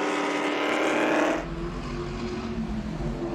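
A loud vintage race car engine roars close by at Road Atlanta during an SVRA race, then drops abruptly to a lower, steady rumble as it moves away.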